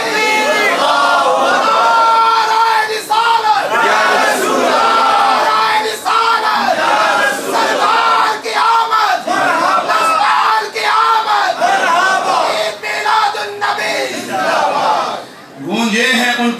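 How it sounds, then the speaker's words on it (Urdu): At an Eid Milad religious gathering, a large crowd chants slogans in loud, rhythmic unison bursts, repeated call after call over many seconds, close and energetic, with voices rising and falling together. "اب تو نعرہ لگا لو بھائی"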